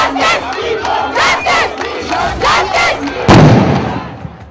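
A protest crowd in Delhi roars and chants in loud surging waves, voices rising and falling together before a sudden burst of louder shouting near the end.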